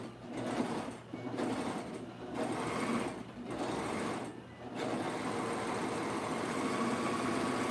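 A sewing machine stitches fabric for pants in rapid whirring bursts, stopping briefly four times, close and fairly quiet.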